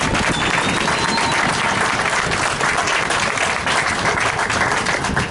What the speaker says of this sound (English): I want to hear a louder round of applause for B.